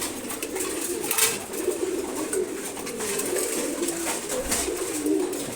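Pigeons being fed in the morning coo continuously, several birds overlapping in soft, throaty, rolling calls at close range.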